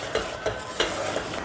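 Tomato paste going into warm ghee in a pan, a short burst of close sizzling with several stirring scrapes and light utensil knocks, no speech.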